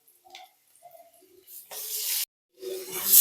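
Onions and tomato frying in a pan, a soft hiss and sizzle rising in bursts, with scattered small ticks and taps from the pan at close range.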